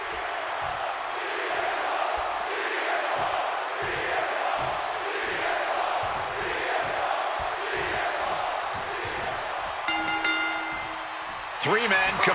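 Wrestling arena crowd in the WWE 2K26 video game, a steady loud roar of cheering throughout, with a commentator talking over it and a brief electronic tonal burst near the end.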